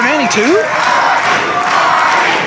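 A wrestling crowd at Longwood University roars and chants for Jeff Hardy as he circles the ring, a loud sustained mass of voices with a shout or whistle rising over the din and a brief voice near the front.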